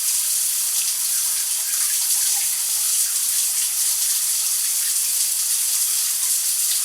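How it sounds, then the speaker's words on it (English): A spring gushes out of the ground in a steady, hissing rush of running water that stays close and constant throughout, with no voices. "that's a real good spring coming out of there"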